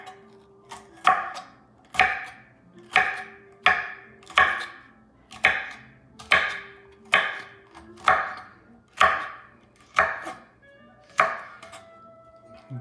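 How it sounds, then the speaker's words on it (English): A knife slices a bell pepper into strips on a cutting board for sausage and peppers with Marsala. About a dozen crisp, evenly spaced chops come steadily and close up, with no talking. "And I have 1 more pepper to cut. I'm going to cut that in slices too."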